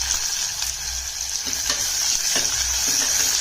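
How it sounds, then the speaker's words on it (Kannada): Chopped onion hits hot oil already crackling with mustard seeds and curry leaves, giving a loud, steady close sizzle with stirring scrapes and no voices. "ಸಣ್ಣದಾಗಿ ಹೆಚ್ಚಿಟ್ಕೊಂಡಿರೋ ಈರುಳ್ಳಿ ಹಾಕ್ತೀನಿ."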